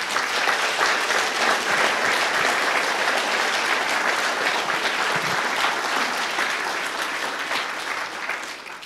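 Big, sustained applause from a theatre audience welcoming the living legend Pavel Váně onto the stage at a tribute evening for Bob Frídl, dense and steady throughout, easing slightly near the end.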